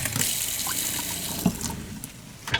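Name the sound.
water running into small bartender sink in pop-up camper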